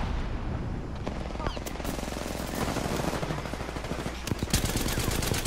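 Rapid bursts of gunfire from teams shooting at each other in a video game, dense crackling shots and automatic fire running throughout, with a voice briefly talking over the gameplay.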